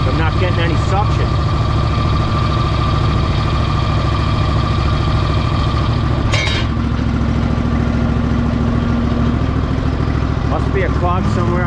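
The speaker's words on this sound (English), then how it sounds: "Alright, the impeller is spinning." A pump's impeller spins without drawing suction, giving a loud, steady mechanical drone with a low idling hum and vibration. It runs unbroken throughout, with a person talking over it.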